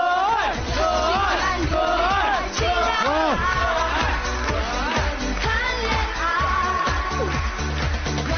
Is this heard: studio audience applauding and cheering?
yes